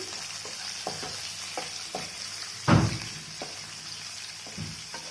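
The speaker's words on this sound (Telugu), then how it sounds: "ఉల్లిపాయలు కొంచెం సేపు వేగాలి." Onions sizzle steadily in a pan while a Guntur gongura pachadi is prepared, with light rhythmic taps and stirs throughout and one louder scrape midway; no one speaks.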